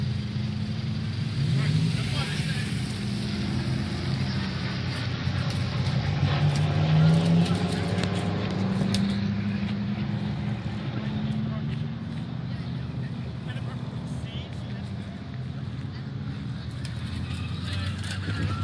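A race car rolls out along the pit lane with a continuous engine drone that rises gently in pitch, heard from nearby under crowd noise and a voice talking.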